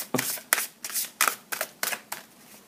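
Large oracle cards are shuffled by hand in quick, rhythmic riffling bursts, about seven crisp flutters close by in a quiet room.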